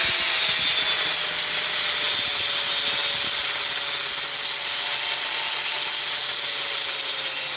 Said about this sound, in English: So we're going to go ahead and remove some of this tip material.